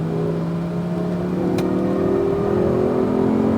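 An Audi R8 V10 RWD accelerates hard on the Speed Vegas track, its engine note climbing steadily, loud and close, with no talk over it.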